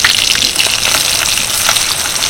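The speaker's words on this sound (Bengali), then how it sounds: "এর মধ্যে দিয়ে দেবো পেঁয়াজ। পেঁয়াজটা যখন ভাজবো" Thinly sliced onions fry in melted mutton fat and oil, a loud, dense, continuous sizzle with crackling bursts, close up and without any voices.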